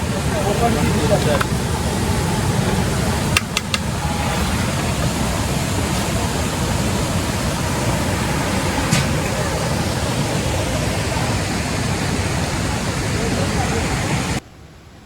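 A waterfall at Kasartaka in the Konkan pours clear water, making a steady, close broadband rush that stays level throughout while a person talks over it, before the sound cuts off abruptly at the end.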